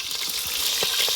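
Brinjal (eggplant) pieces fry in hot oil in a home kitchen, a steady bright sizzle with faint stirring taps throughout this short moment.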